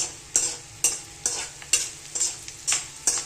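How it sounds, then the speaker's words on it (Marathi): Gum resin (dink) frying in hot ghee, with repeated scraping stirs against the pan every half second or so over a steady bubbling sizzle, close and clear with no talk. "आता हा इकडे बघा डिंक तळतोय"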